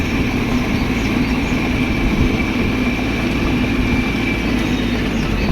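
A small tractor works a rotavator through a farm field ahead of ginger planting, giving a steady, loud mechanical drone with a constant low rumble throughout and no voices.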